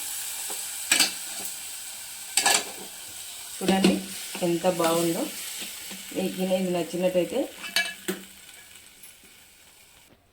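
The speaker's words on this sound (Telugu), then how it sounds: "ఇట్లా తాలింపు పెట్టిన" Tempering sizzles in a pan for raw tamarind chutney, a steady frying hiss broken by crackling bursts, while a person talks over it.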